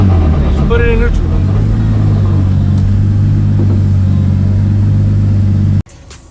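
A drift car holds a loud, steady low engine drone on a dyno with a brief squeal early on, then cuts off sharply near the end to a much quieter background.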